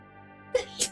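A woman sneezes twice in quick succession, close and fairly loud, the second burst sharper than the first, in a quiet room.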